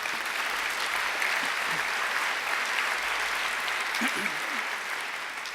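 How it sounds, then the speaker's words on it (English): An audience at a graduation ceremony claps steadily in a dense, sustained round of applause that fills the whole stretch. "I think Warren deserves another great round of applause."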